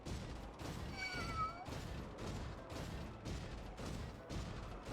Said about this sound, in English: Sometimes those cat bats sound so cute